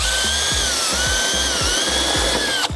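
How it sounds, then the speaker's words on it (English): A power drill bores holes into a timber shed door frame, a steady high whine running with repeated short bursts as the bit bites in, loud and close, ending with an abrupt stop. "Once you've got those holes drilled"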